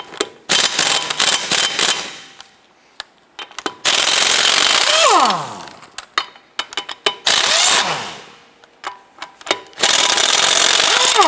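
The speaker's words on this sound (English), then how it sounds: "you can use a 22mm socket with your impact gun." Pneumatic impact gun with a 22mm socket rattles off car lug nuts on a 2007-2012 Nissan Versa, loud repeated hammering bursts separated by brief pauses and small clinks, with a falling whine as it spins down.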